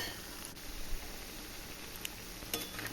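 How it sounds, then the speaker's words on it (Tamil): Sweet and salty seedai balls frying in hot oil on a low flame while being stirred, a constant faint sizzle and bubbling hiss with occasional light scrapes, close but quiet and with no talking. "லோ ஃப்ளேமில் வச்சு நல்லா அந்த மாதிரி கிளறி எடுக்கணும்."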